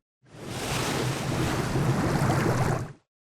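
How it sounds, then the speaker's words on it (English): Water spell charging effect from an Unreal Engine 5 wizard game demo, a swelling, surf-like rushing whoosh of water that fades in, holds steady and loud for about three seconds, then cuts off cleanly. "Here's the water spell charge,"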